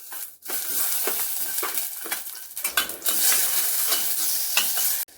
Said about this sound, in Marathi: आता याच्यामध्ये टोमॅटो आणि आलं हे पण आपण फ्राय करून घ्यायचं आहे म्हणजे भाजून घ्यायचं आहे